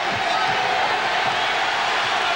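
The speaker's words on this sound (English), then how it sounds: "This crowd doing everything it can to help." Arena crowd at a 1994 NBA playoff game between the Denver Nuggets and Seattle SuperSonics, a loud continuous roar of cheering that fills the space with broadcast commentary over it.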